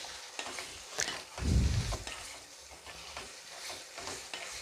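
Chicken keema with salt is stirred in a pan, giving a gentle sizzle under soft scraping strokes. One fuller, louder stir thumps about midway, and the sound stays close and fairly quiet with no talking.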